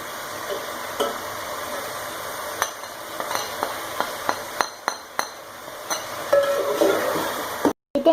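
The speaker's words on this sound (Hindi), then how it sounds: "लहसुन अदरक के साथ सौते करने के बाद मैंने इसमें ऐड कर दिए टमाटर।" Tomatoes fry in a pan right after garlic and ginger have been sautéed for a chicken biryani: a steady sizzle runs throughout, broken by sharp clinks of a spoon stirring against the pan and a brief cut-out near the end.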